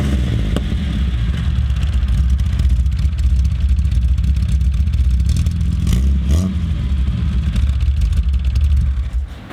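The engine of an old Datsun 260Z runs loud and close, a steady rough rumble throughout with mild revving and no talk over it.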